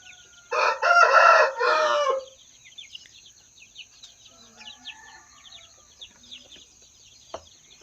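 Rooster gives one loud, close crow lasting about a second and a half, followed by softer scattered clucks and chirps from a flock of young shamo and aseel chickens, with a faint steady high tone in the background.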